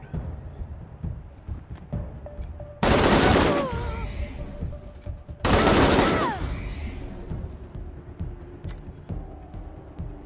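Combat in the game Wasteland 3 erupts in two loud, long bursts of rapid gunfire one after the other, set against a quieter, cluttered background.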